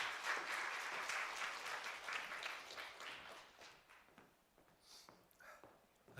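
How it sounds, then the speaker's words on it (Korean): An indoor workshop audience applauds as a chairman is welcomed to the stage: dense, fairly distant clapping that thins out and fades after a few seconds, leaving scattered claps and room noise. "여러분 따뜻한 박수로 박영배 대륙 회장님을 큰 박수로 단에 모시겠습니다"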